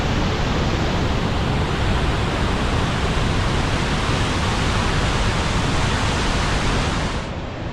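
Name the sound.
waterfall, middle falls at Letchworth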